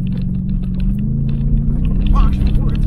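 A 2023 Ford F-150 Raptor R rumbles low and steady on an off-road course, a deep close engine drone without sharp revs.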